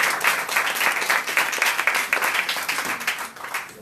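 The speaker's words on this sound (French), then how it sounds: "qu'on applaudisse très très fort" Loud, dense applause from an audience welcoming Malka to her new home at a Jewish gathering in Jerusalem, steady crackling claps throughout and tapering slightly at the end.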